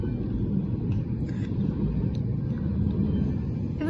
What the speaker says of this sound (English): That train is going pretty fast.